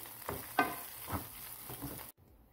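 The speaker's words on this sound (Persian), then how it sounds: "یک قاشق غذاخوری روغن و یک قاشق غذاخوری کره را داخل یک ماهیتابه میریزیم و زرشک و خلال پسته رو حدود 30 ثانیه تفت میده" Barberries and slivered pistachios frying in a pan of oil and butter give a steady close sizzle with soft stirring scrapes, then cut off abruptly near the end.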